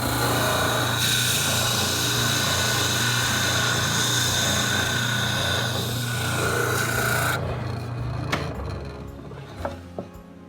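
A spindle sander with a 1.5 inch spindle smoothing the interior of a wooden planter, a loud steady rasping whir with a low motor hum that cuts off near the end, leaving faint handling knocks.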